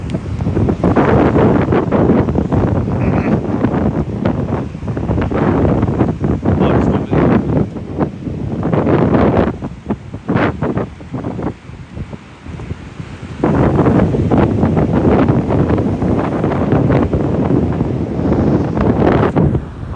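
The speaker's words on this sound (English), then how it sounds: "It's a bit choppy today, the sea, look, it's a bit wild. As you can see, all the waves are crashing in" Strong wind buffeting the microphone at Protaras beach in Cyprus, with choppy sea and waves crashing underneath, loud and continuous with gusts rising and falling.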